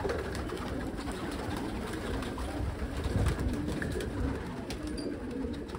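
Pigeons coo outdoors during a pigeon-catching outing, soft and somewhat distant, under a steady wash of wind and background noise.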